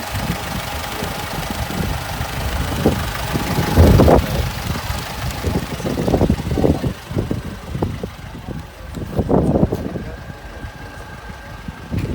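A used Mercedes car idles at an outdoor car market in Sumqayit, giving a steady, loud engine rumble with a slight knock that runs throughout over faint background noise.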